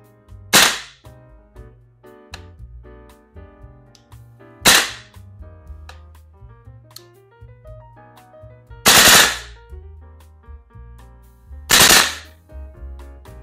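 A VFC HK416A5 V3 gas blowback airsoft rifle fires four sharp, loud cracks spaced a few seconds apart, each with a quick mechanical snap, alone against a quiet background.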